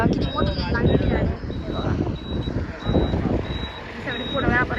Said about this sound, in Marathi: तर बघा किती मोठी लागलेली गाडी